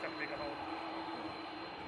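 A jet airliner departing Manchester Airport for Orlando gives a steady, fairly loud engine roar with a high whine, while a person talks over it.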